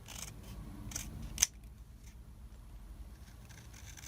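Scissors trimming the top edge of a layered papercraft card at an angle, a single crisp close snip after light handling rustle, then quiet room tone.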